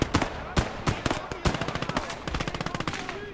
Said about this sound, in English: Okay, this machine gun's doing nothing.